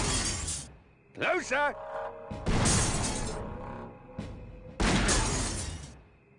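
Glass panes shattering in Grim Fandango, heard as repeated loud bursts of breaking glass in a game scene, with a voice speaking briefly between the crashes.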